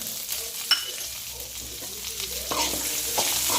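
Chopped garlic and ginger sautéing in a hot pan, a soft continuous sizzle with occasional scraping stirs and a brief clink, close and moderately loud with no talk.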